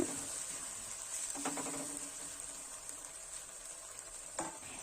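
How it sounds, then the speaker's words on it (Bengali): A spice paste fries in a pan with onions and tomatoes for a Katla fish curry, giving a steady soft sizzle with occasional scraping stir strokes and no talk. "এখন আমি এর মধ্যে দিয়ে দিলাম আগে থেকে পেস্ট করে রাখা মশলাগুলো মশলাগুলো একটু পেঁয়াজ আর টমেটোর সাথে মিশিয়ে নিচ্ছি"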